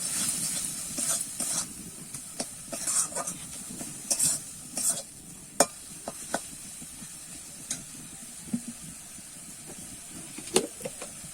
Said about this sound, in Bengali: এখানে দিচ্ছি আমি একটু সবজি মশলা দিয়ে কিন্তু আবার একটু নাড়িয়ে চাড়িয়ে নেবো